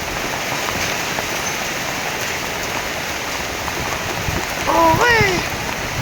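Rain falls steadily outdoors, making an even, continuous hiss. A voice cuts in briefly near the end.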